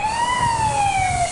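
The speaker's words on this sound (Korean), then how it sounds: "주차 단속 차량이 사이렌을 울리며 도로에 어지럽게 주차된 차량을 단속합니다." A parking enforcement vehicle's siren wails steadily while the vehicle patrols a road lined with haphazardly parked cars. The tone glides slowly up and down, loud and continuous, with a low rumble of traffic beneath.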